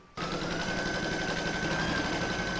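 A sewing machine stitches the outline of a mug rug onto stabiliser, starting abruptly after a brief quiet moment and then running in a steady, fast, even mechanical whir with a constant motor tone, close and alone.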